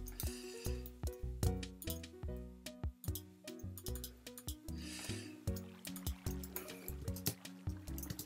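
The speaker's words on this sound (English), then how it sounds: "Okay, buckets of water." Water buckets being placed and scooped in Minecraft Build Battle gameplay, a rapid run of clicky block and liquid effects, sloshes and small ticks, mixed with other game sounds and played at a fairly quiet level.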